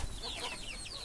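A free-range hen clucks in a henhouse with soft, quick murmuring calls, faint and fairly near against a busy rustling background, over about one second without talk.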